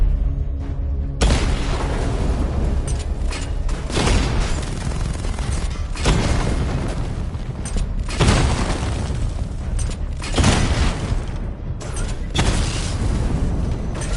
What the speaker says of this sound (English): Destroy target to charge up weapon energy and activate missile barrage.